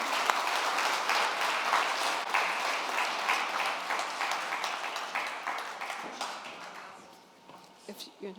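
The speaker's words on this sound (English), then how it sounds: "A round of applause for her." Audience applause for a speaker introduced at an anniversary event for a renewable energy organisation, a dense steady clapping that fades near the end to scattered claps.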